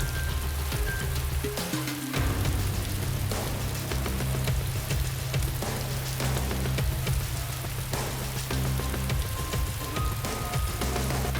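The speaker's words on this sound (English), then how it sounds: "they tweak the rain a little bit" Rain falls in the video game DayZ, a dense, steady patter of droplets on surfaces with a low rumbling bed beneath, constant throughout.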